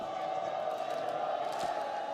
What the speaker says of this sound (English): To the elation of the crowd